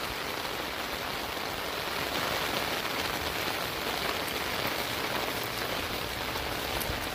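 A steady, loud downpour falls over a yard fitted with a French drain, giving continuous dense hissing patter throughout with no voices.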